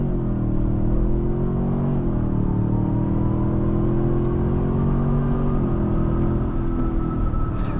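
A 2026 Toyota Sequoia Platinum accelerates from inside the cabin, a steady loud engine drone and road rumble with a rising pitch that dips briefly mid-run before climbing again, no voices.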